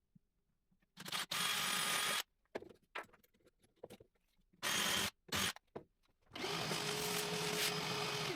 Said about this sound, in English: I follow up with a wider countersink after drilling.